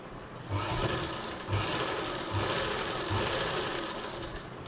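Up close, a sewing machine stitches a blouse lining in a continuous steady hum with a faint rhythmic needle thump, running almost without pause after a brief start.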